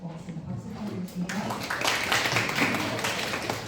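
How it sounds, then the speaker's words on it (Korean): An audience at an AI research talk breaks into applause for the speaker. After a quieter opening with talking, dense clapping swells in and holds steady. "박수 부탁드리겠습니다."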